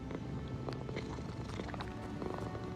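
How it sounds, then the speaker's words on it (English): A cat purring in the video game Avowed, a steady low rumbling purr running continuously through the short moment with no talk over it. "Oh, it's like he's purring."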